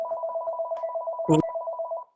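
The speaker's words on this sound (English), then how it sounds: "Let Mike answer his phone." A telephone rings in steady repeated trills, fairly close and clear, with a brief burst of other noise partway through before the ringing cuts off.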